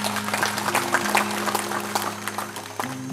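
Audience applause at a Dayak gathering with Borneo dance in Tokung village, Murung Raya, a steady wash of clapping under a faint continuous hum and a low voice.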